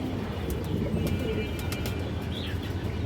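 An old-line Bagha female pigeon coos softly nearby while other birds chirp and tweet around it, with a brief high call near the end.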